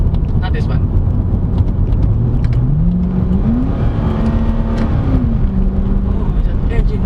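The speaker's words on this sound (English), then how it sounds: "Oh, that engine is so crazy." A 2012 Chevrolet Corvette C6 Grand Sport engine drones steadily from inside the car while driving, its note climbing as it revs up, holding a higher pitch, then easing back down under constant road and cabin rumble.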